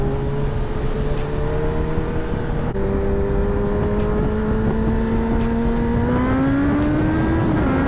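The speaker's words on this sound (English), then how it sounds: "I love the Honda. It sounds fucking amazing." A Honda naked motorcycle built on the CBR 1000 engine idles and revs in a steady drone that climbs smoothly in pitch, loud and close throughout, with no one talking.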